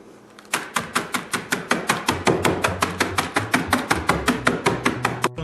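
A beer bottle used as a rolling pin pounds food inside a bag in a quick, even run of about twenty sharp thumps, close and clear.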